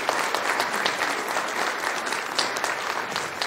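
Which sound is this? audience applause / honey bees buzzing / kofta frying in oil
audience applause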